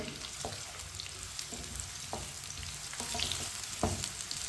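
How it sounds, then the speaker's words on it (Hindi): Potato and eggplant pieces fry steadily in oil over medium heat, a continuous close sizzle with a few soft knocks of stirring. "मीडियम आंच पर इसे 2 मिनट के लिए फ्राई कर लेंगे"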